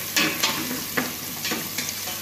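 Garlic fries in a hot pan, a dense continuous hiss and crackle with a few sharp pops and stirring scrapes, close and fairly loud, with no talking.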